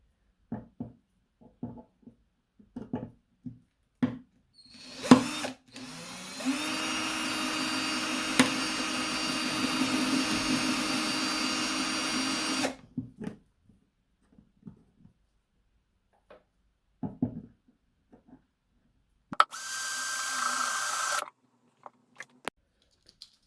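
A power tool whirs steadily for several seconds while removing damaged fretboard inlays during a guitar repair, then a second shorter burst, with scattered clicks and knocks in the quiet between.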